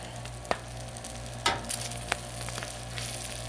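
Smash burgers sizzle steadily on a Blackstone griddle after flipping, a constant close crackle and hiss punctuated by a few scraping spatula taps.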